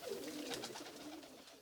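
Pigeons gathered around a man who keeps them, giving soft low cooing under faint rustling, quiet and close, with no talking.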